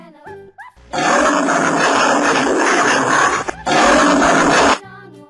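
A tiger gives two long, loud, raspy roars close at hand, the first sustained for almost three seconds, then a brief break before a shorter second roar, with faint brief sounds at the start and end.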